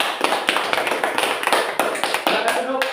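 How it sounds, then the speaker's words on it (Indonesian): A classroom of students applauding, with quick crisp hand claps in a steady flurry, close and lively, while voices speak over the clapping. "Oke, tepuk tangan luar biasa."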